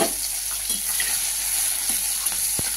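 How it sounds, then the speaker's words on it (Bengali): Crushed garlic and green chili frying in hot oil for a greens dish, a continuous bright sizzle close to the pan with a few soft stirring taps. "বন্ধুরা আমার তেল গরম হয়ে গেছে, আমি দিয়ে দিলাম রসুন আর কাঁচা লঙ্কাটা থেতো করা"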